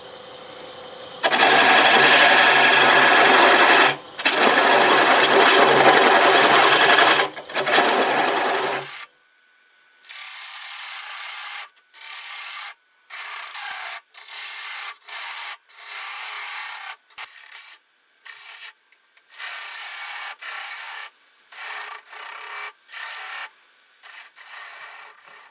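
Wood lathe spinning a multi-axis turned piece held in a jam chuck at 700 RPM, a loud hissing whir in long bursts, then softer repeated start-stop pulses of the spinning wood.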